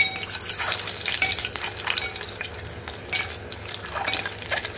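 Eggs and dried fish curry cook in a pan with a steady sizzle and frying hiss, broken by repeated scraping stirs of a utensil against the pan, with no one talking.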